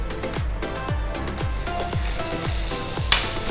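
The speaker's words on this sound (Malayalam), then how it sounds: "അപ്പോൾ ചട്ടി ഇവിടെ നന്നായി ചൂടായി കിടക്കുകയാണ്. അപ്പോൾ ഞാനിതിൽ ഇത് ചുട്ടെടുക്കാൻ പോവുകയാണ്." Porotta flatbread cooks on a well-heated pan, a steady close sizzle overlaid with a regular series of low thumping pulses about every half second and a brief sharp click near the end, no talking.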